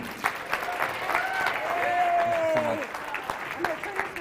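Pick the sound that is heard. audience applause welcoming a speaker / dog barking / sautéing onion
audience applause welcoming a speaker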